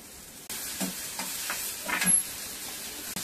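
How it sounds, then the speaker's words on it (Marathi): Tomatoes sautéing in a pan for a peas and fenugreek bhaji, a soft sizzle under several scraping stirs of a spoon against the pan, fairly quiet and close, no voices. "आता आपण टोमॅटो टाकूया त्याच्यामध्ये।"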